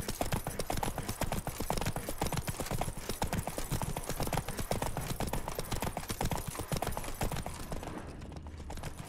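Rapid clip-clop of a horse's hooves galloping steadily in The Witcher 3: Wild Hunt, continuous and fairly quiet with a rider's mount running over ground, fading briefly near the end.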